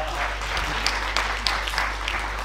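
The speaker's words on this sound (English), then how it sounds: "I would request all of us just to welcome him with a few claps" An audience at a child protection conference at Daystar claps to welcome a speaker, a steady wash of applause with a few sharper individual claps standing out.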